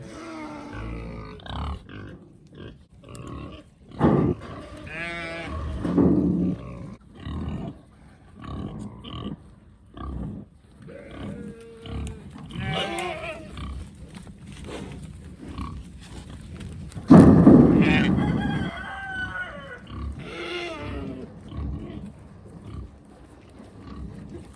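Pigs grunt and snort repeatedly at close range on a small farm, with a louder burst of squealing grunts partway through over a busy farmyard background.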